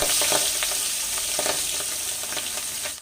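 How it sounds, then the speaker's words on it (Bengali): Fish heads slipped one by one into smoking-hot oil in a wok give a loud, dense, continuous sizzle with faint crackles, heard close up and without any voice. "এবার মাছগুলো আমি একটা একটা করে ছেড়ে দিচ্ছি মাছ তো নয় মাছের মাথা"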